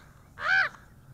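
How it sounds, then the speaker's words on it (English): A single crow gives one short, clear caw from a flock flying around outdoors during a model airplane drone flight test, against quiet background noise. "Got these crows flying all over the place."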